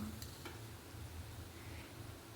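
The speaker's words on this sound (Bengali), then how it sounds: "লঙ্কার গুঁড়োটা দিয়ে আবারও কিছুক্ষণ ভেজে নিলাম মশলাটা" Spice paste with red chili powder frying in a pan, a faint steady sizzle with soft stirring scrapes throughout, low and continuous with no talking.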